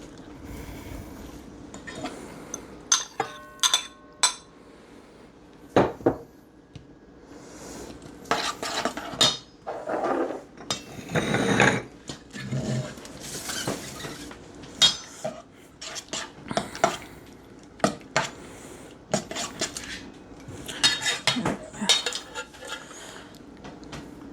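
Sliced mushrooms dumped and scraped into an unbaked quiche pie shell, giving a run of close clinks, taps and scrapes of utensils against dish and pan, irregular and fairly loud, with no talk.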